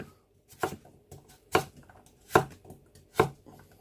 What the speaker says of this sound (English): So I'm going to cut them into roughly chip sizes.